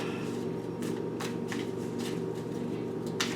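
Tarot cards handled and drawn from a deck, soft papery slides and flicks repeating close by over a steady low room hum, with no talking.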